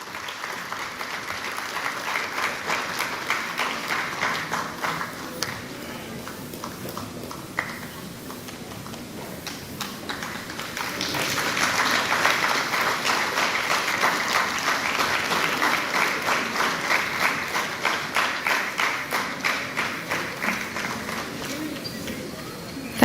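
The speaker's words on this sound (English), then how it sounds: "Can we have a warm round of applause, everyone?" A seated audience at a university inaugural ceremony applauds steadily, the dense clapping easing briefly partway through and then swelling louder again for a sustained round.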